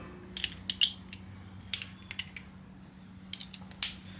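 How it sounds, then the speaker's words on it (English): A torque wrench fitted with an 8mm Allen adapter is used to tighten the frame slider bolts on a Yamaha MT-09 motorcycle, giving clusters of faint, close metallic clicks separated by short pauses. "we're going to torque them down to 15 Newton meters, which turns out to be 132 inch-pounds"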